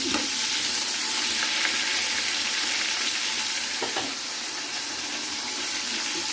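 Biryani ingredients frying in oil until reddish, a loud dense sizzle running throughout with a few faint stirring clinks.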